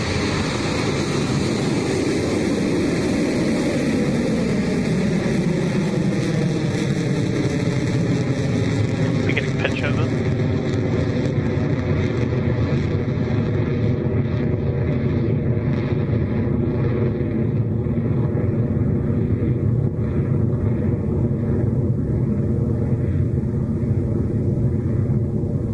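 A Rocket Lab Electron rocket lifts off from its New Zealand pad carrying a Japanese radar satellite, a sustained, heavy crackling roar that rumbles continuously and loudly, with a deep low rumble and a slowly shifting tone as the vehicle climbs away.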